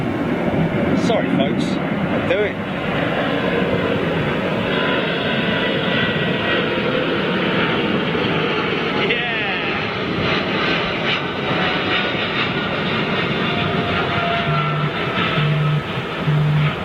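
Jet airliner at Heathrow Airport with its engines spooling down, a loud steady roar and whine that holds throughout, close by, with a person talking over it.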